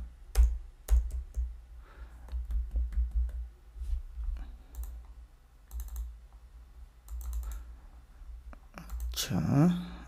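Computer keyboard keys clicking in quick bursts with irregular pauses, including single firmer Enter presses, close and moderately loud, with no talking.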